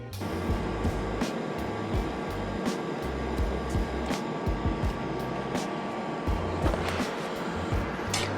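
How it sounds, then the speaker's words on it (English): TIG welding of metal tube parts for a jet tank racer build gives a steady electrical buzz broken by scattered sharp clicks and crackles, heard up close with no talking. "So let's weld these bits up."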